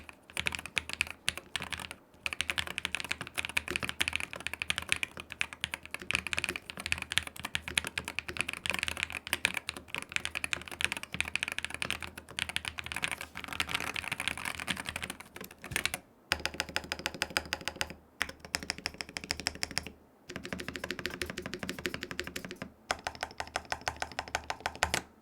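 Rapid, steady typing on a Pwnage Zenblade65 V2 Hall Effect keyboard, close and clear, with a dense stream of keystrokes broken by a few short pauses and no talking.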